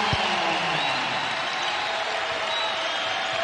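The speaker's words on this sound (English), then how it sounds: "The crowd again rising to their feet here in Mizzou Arena." Basketball crowd in Mizzou Arena during a Missouri vs Auburn college game, a steady, loud wash of cheering and applause from a packed arena with no clear breaks.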